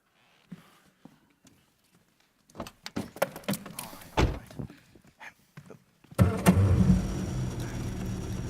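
An older car is boarded: a few faint knocks and shuffles, then solid thumps of doors closing, before the engine starts and settles into a steady close idle and drive-off rumble.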